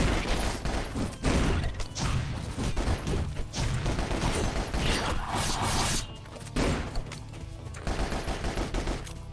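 Rapid video game gunfire bursts along with thumps and explosive booms in a continuous, loud, dense barrage with brief drops in intensity.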